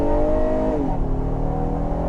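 The engine of a 2021 Honda Odyssey minivan revs hard under full-power acceleration, a steady loud roar with a rising then settling drone, heard close from inside the car with no speech.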